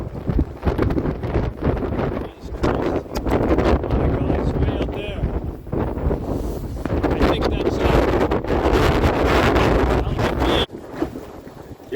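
Strong hurricane-force wind gusts buffet the microphone in loud, rough bursts that rise and fall around a farm with snow fences and horse shelters, while a person talks.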